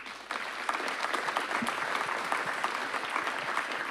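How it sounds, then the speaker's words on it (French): An audience at a science lecture on crowd physics applauds at the end of the talk, a dense, sustained wash of clapping from many hands that stays steady and fills the room throughout. "On vous applaudit."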